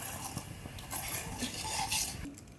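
Semolina for kesari is dry-roasted in a miniature pan, stirred with a small spoon that scrapes and clinks against the metal in quick, close, continuous strokes, with no talking.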